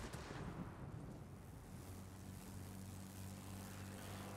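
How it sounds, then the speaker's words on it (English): A heavy fighter plane in a Wargaming battle game drones past overhead, a steady low propeller-engine rumble holding loud and even throughout with a brief rougher burst near the start and no talk. "No, no. It's just a heavy fighter plane doing his role."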